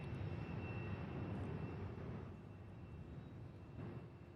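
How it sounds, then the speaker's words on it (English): A 21-year-old Cessna 750 Citation X business jet climbs out of Louisville, a fairly faint, distant engine hiss with a thin high whine that eases slightly partway through. "there's the Cessna 750 Citation X."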